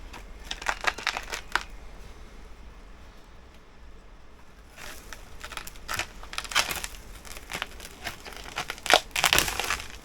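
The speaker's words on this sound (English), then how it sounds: "that was the root popping out the bottom" Roots of a large ficus benjamina bonsai crackle and tear as they pop out the bottom of the pot, with a short burst of crunchy snaps followed by a pause and then a longer, louder stretch of crinkling cracks.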